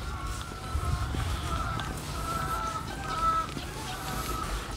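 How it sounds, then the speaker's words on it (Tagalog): Chickens clucking and calling around a farmyard in Iloilo, Philippines, several birds at moderate distance over a low rumbling background, no talking. "Tapos ito, marami ulit na manok."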